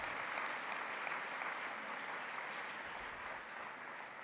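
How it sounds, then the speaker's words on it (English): An audience at a political party's international conference gives a panel steady, dense applause for about four seconds. The applause stays fairly even throughout and sounds somewhat distant, with no voices over it. "Can we give them a round of applause for such an important panel?"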